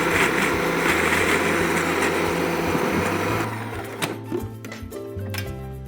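A blender whirs loudly and steadily through a crumbly mixture as olive oil is added. Its tone shifts partway through, and it then runs rougher with rattling as it winds down.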